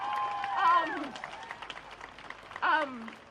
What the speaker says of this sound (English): round of applause for how amazing these people singing are